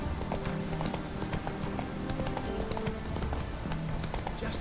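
Horse hooves clip-clop on stairs in The Witcher 3, a steady rapid clatter of hoofbeats over constant game background noise.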